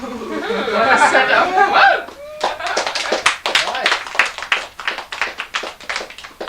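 An audience breaks into applause at a live tribute show, dense scattered clapping that builds and carries on after a short burst of laughter and chatter.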